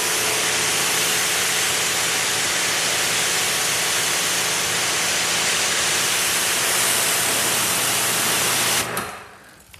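A steady, loud spray of water rinses a mountain bike wheel, a continuous broadband hiss that runs unbroken for several seconds before cutting off abruptly near the end.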